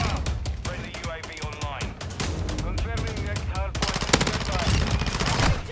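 Rapid automatic gunfire in a Call of Duty video game, dense and continuous with overlapping shots and impacts, with someone talking over the shooting.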